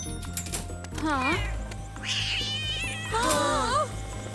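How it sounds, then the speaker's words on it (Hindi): A cartoon cat meows three or four times in a row, each call a wavering, rising and falling cry, loud and close over a low background hum. "एक बिल्ली ऑफिस में भी चली गई"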